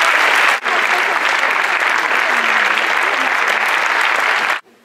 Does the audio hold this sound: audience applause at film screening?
yes